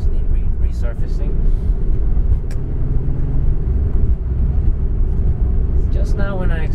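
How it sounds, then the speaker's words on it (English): A Porsche 964 C2 manual Targa accelerating on the road: a steady low engine drone heard from inside the car, with someone talking over it throughout. "Just now when I accelerated"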